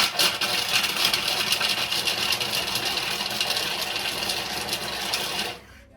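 A kitchen mixer blends white chocolate pieces in a fast whirring, rattling burst at speed five, loud and steady for about five seconds before stopping.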